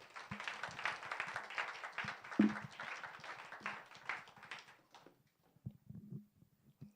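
Church congregation of young adults at an early-morning special prayer service applauding to welcome a speaker, several seconds of dense clapping that thins out, followed by a few scattered taps and thumps in a quiet room.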